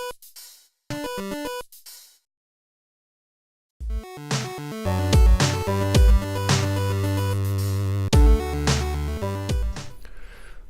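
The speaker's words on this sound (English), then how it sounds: "did some edits on that to make it sound like a few hi-hat fills" Chiptune drums with cymbal samples edited into hi-hat fills: a few sparse blips open, then after a pause a dense pattern of punchy kicks and bright, crisp hits drives on, loud and alone.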